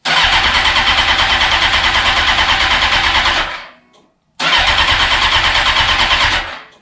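Suzuki GSXR 750 motorcycle engine cranking loudly and steadily with a fast pulsing starter rhythm, stopping briefly, then cranking again in a second long burst without catching.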